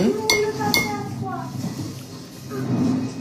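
Hair care oil mixture being stirred in a bowl, with a few bright clinks of utensil against the bowl near the start, then a softer scraping under nearby talking voices.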